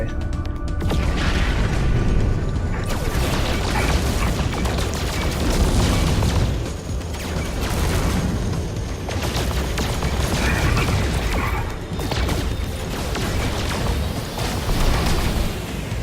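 Space pirates open fire on a ship in No Man's Sky, a dense, continuous barrage of booming laser blasts and explosive bursts that carries on loud and close for the whole stretch with hardly a pause.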